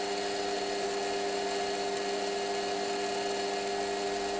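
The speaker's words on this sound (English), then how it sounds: "So 6mm reamer, I'm running nice and slow." A Warco WM180 lathe turns slowly at about 300 RPM while a 6mm reamer cuts aluminium, giving a steady, even whine and hum that holds unchanged throughout with no speech.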